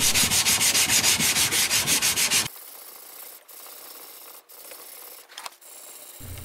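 Hand sanding a steel kukri blade starts with rhythmic back-and-forth abrasive rubbing strokes, close and loud, then stops, leaving a quiet room with faint scraping and shuffles.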